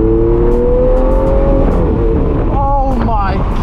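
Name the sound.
Lamborghini Aventador SV supercar accelerating on open road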